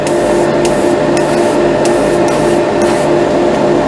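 A steady, loud hiss of a Mr. Hobby Gundam Marker airbrush spraying ink runs continuously without pause, with a faint airy flutter riding on top.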